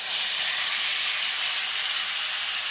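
Marinated jackfruit dropped into a pan of reddish fried potatoes, giving a loud, steady hissing sizzle that holds evenly throughout with no voices.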